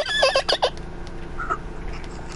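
A person's voice imitates a horse neigh, producing a short, wavering whinny-like cry that breaks into a few choppy bursts before fading into quiet background noise during a game session with friends.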